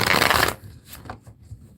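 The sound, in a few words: shuffling tarot cards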